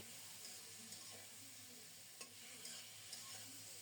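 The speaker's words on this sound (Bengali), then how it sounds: "তিন চার মিনিট পর ঢাকা উঠিয়ে আবারও নেড়ে চেড়ে কষিয়ে নেব" Sliced ridge gourd sautés in a pan, a faint, even sizzle with a few soft stirring taps and scrapes spaced apart; quiet and close, with no talking.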